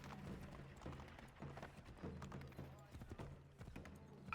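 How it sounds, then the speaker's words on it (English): Horse hooves clatter on cobblestone in a video game, a steady run of clip-clop hoofbeats with thuds beneath them, heard under a background of game noise and voice. "sound a horse makes on cobblestone or brick roads"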